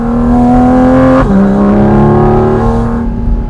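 A Porsche Cayman GT4 RS climbs an Alpine pass in the Swiss Alps, its engine loud and close, droning at high revs. A quick gearshift dip comes midway, then the pitch rises again before easing off.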